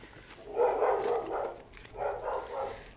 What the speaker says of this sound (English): Oh, whack. Lots of dogs.